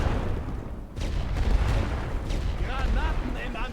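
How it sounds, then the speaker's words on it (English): Artillery shells landing in The Great War: Western Front, a heavy, rumbling barrage of booms rolling continuously, with game voices and other battle noise over the top. "Hopefully the artillery lands while they're running in here so I can just kill all of them at once."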